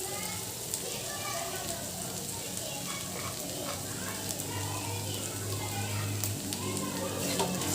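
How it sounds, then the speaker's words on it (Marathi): Green chili kharda sizzling and frying in hot oil in a pan, a steady soft crackle with occasional stirring, close by and continuous throughout. "मिरचीचा खरडा मस्तपैकी तेलात परतून झालेला आहे"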